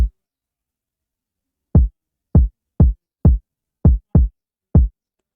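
An Afrobeat kick drum sample played alone in FL Studio: seven short, deep, punchy thumps in an uneven pattern after a single opening hit, each dying fast into silence.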